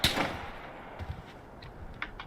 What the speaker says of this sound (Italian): Cosa sono questi spari? Non lo so, stanno sparando